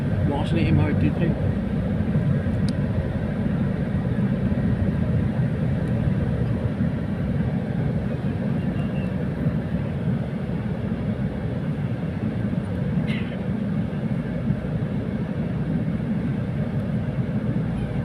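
An MRT train rumbles past steadily in a broad low roar, close and loud throughout, with faint background voices.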